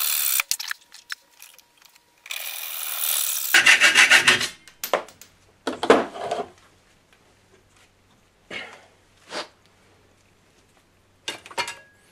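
Cutting out a circular part for a Gamo Shadow 1000 airgun silencer adapter by hand, with close bursts of rasping, scraping strokes separated by pauses, some longer sustained cuts early and short scratches later.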